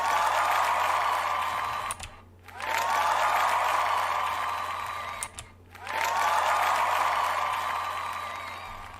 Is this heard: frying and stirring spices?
no